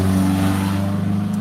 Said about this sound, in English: And there's these cars going by making all this noise.